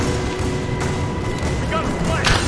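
Bursts of gunfire fill a village attack in the video game Rise of the Tomb Raider, with steady loud shots and booms under shouting combat voices.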